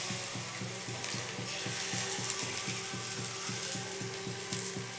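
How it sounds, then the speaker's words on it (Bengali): Chicken gola roti batter sizzles in oil on a hot tawa, a steady close-up frying hiss over a regular ticking, mechanical rhythm, with no voices. "দিয়ে দেবো চাটুর উপরে এইভাবে গোলা"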